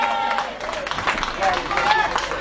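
A concert crowd claps for a drumming teacher, a dense wash of applause blended with voices and cheering, fairly loud and continuous throughout.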